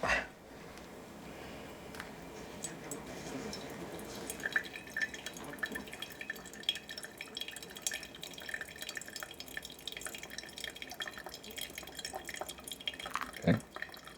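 Coffee drains through a Drell Dripper brewer in a soft, quiet patter of drips and trickles, with a few sharper drops near the end and no talking.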